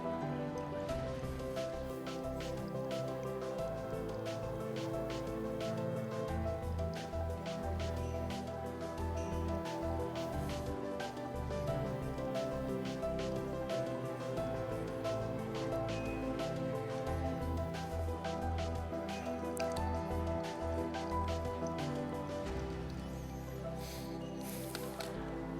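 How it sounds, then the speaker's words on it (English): Water is poured in small amounts over ground coffee in a pour-over filter, giving a faint continuous trickle with soft dripping and splashing that carries on steadily throughout. "I'll do this for each additional pour in small amounts, between 50 and 60 grams of water"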